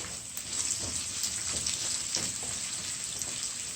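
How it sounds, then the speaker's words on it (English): About an ounce of butter melts in a hot frying pan during cooking for brown stewed tilapia, making a soft, continuous sizzle with faint crackles, close and fairly quiet, and no voices. "Let me add the butter in, as I told you."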